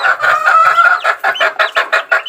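Chickens cluck in a rapid, busy run of short calls while pecking at rice mixed with banana, close and fairly loud, with no talk over them.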